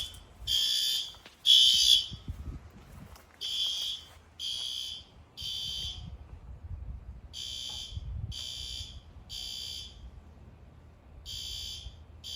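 A fire alarm sounds during routine testing of the fire alarm, generator and emergency systems, giving loud repeated electronic tone bursts in an irregular on-off pattern with brief gaps between them.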